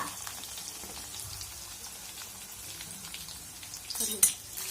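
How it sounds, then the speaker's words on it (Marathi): Onion being sautéed in a pan with garlic, a faint, soft crackling sizzle that ends in a brief louder clatter near the close. "कांदा छान असा परतून घेऊया"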